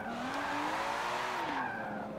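A car drifting through a corner in Forza Motorsport 7 gives off a sustained tire squeal over the steady engine note, the screech bending in pitch as the slide holds for a couple of seconds.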